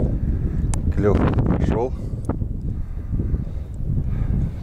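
Strong wind buffets the microphone at a lakeside spot while fishing for roach in April, a steady low rumble throughout, with someone talking over it.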